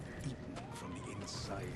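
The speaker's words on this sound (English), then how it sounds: "He's a giant riding a tiny horse." A horse in the video game Elden Ring, ridden by the giant Radahn, gives a short neigh and hoof sounds under continuous talking.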